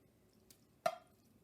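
Chili is poured over cornbread in a kitchen, landing as one soft, wet splat after a faint earlier drip, close and brief against a quiet room.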